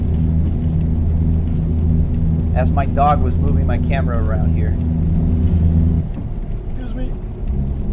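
A truck engine in American Truck Simulator, played through a home car simrig, drones as a steady low rumble for about six seconds and then eases off. A person talks over it.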